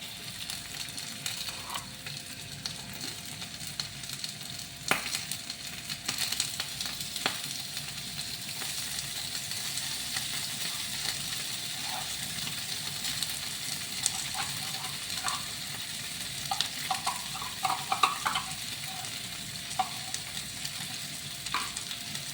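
Corned beef sizzles steadily in a hot frying pan, with occasional scrapes and clicks from stirring. It runs as a continuous close hiss with no talking.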